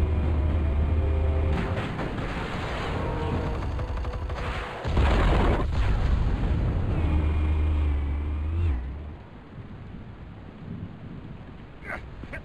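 Explosives go off during a superhero fight as heavy, rumbling booms and blasts. They are loud and sustained, surge again midway and then fade into lighter, crackling debris noise.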